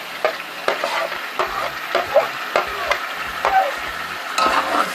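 A spoon stirs chicken with spices in a large biryani pot for degi biryani, scraping close and loud in about nine rhythmic strokes over a steady sizzle, with no talking.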